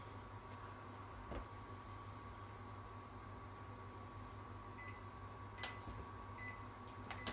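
A Panasonic microwave oven with a fault runs in its cool mode, giving a faint, steady low hum with a constant tone, broken by a few soft clicks and brief high beeps toward the end.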